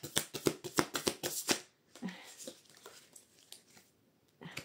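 A deck of cards for a reading is handled up close, with a fast run of crisp riffling flutters followed by softer sliding and shuffling and a brief quiet gap.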